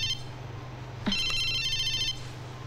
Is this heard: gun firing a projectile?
no